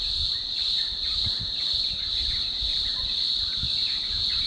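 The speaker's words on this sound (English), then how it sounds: "the cicadas or the crickets or whatever they are come out and just pulse so loud" Cicadas or crickets pulsing loudly just after sunset at dusk, a steady high shrill drone with rhythmic throbbing, continuous and fairly close, no talking.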